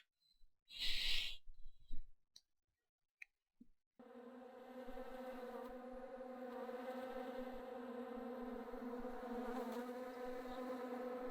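Steady insect buzzing of bees gathered around a portal in The Secret World video game, a dense droning hum that sets in after a few seconds of near silence and short blips, then holds evenly and fairly loud to the end.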